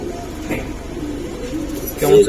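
Giribaz silver pigeons cooing softly, low murmuring calls under ongoing background noise, with a slightly louder coo near the end, while someone talks nearby.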